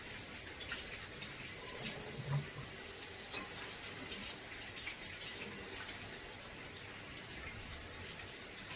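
Tap water running steadily into a kitchen sink as hands are washed clean of pork filling, a continuous close hiss and splash with small shifts in flow and a faint clink.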